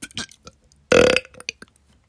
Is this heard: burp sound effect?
yes